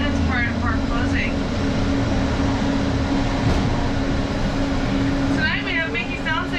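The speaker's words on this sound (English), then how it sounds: "welcome aboard Monorail Red" Disneyland's Monorail Red at the Anaheim resort glides along its track with a steady rolling rumble and hum heard from inside the car, while an announcer talks over it.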